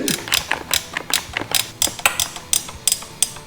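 Bolts are tightened on the tail light of a Yamaha MT-07 motorcycle, a quick series of sharp, close metallic ticks and ratcheting clicks in an uneven rhythm.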